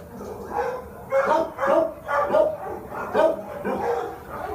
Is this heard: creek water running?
no